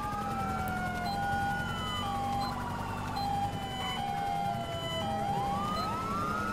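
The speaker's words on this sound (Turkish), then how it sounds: "Dışarıdan da şey geçiyor, ambulans ya da polis geçiyor." A police car or ambulance siren passing outside, its wailing tone rising and falling continuously at moderate distance over a steady background hum.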